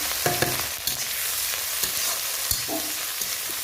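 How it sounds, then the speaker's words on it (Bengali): Onion, garlic and tomato fry with spices as oil sizzles steadily in a pan and a utensil scrapes and stirs with occasional clinks, close up and without any talking. "মশলাগুলো একটু ভাজা ভাজা করে নেব"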